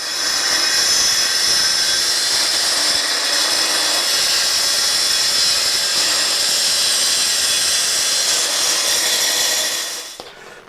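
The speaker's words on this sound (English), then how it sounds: "I can then just come in and use the plunge saw to finish this off" A plunge saw cuts through laminate flooring during a conservatory floor fit, a loud, steady whine held for about ten seconds before it winds down abruptly.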